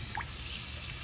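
Water dribbles and drips steadily for an African grey parrot's shower, with one brief distinct drip near the start over a continuous trickle.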